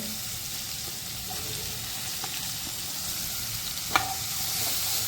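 Steady, close sizzling of onion frying in hot spiced tempering oil, a continuous hiss with a few light scrapes of stirring and one brief clink.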